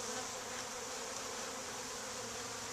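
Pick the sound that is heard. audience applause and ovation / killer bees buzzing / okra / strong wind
killer bees buzzing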